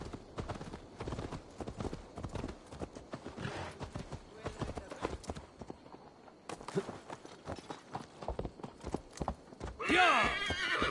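Horse hooves clip-clop steadily through a medieval Assassin's Creed Valhalla game scene, with a loud neigh and whinny bursting out near the end, all under occasional game chatter.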